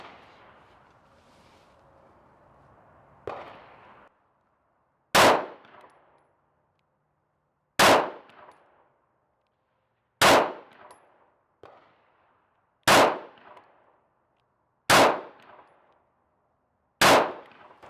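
Single shots ring out one by one during a 10-round, 25-meter grouping exercise on a range, seven loud, sharp reports spaced about two seconds apart, each with a short decaying echo, following quieter shuffling.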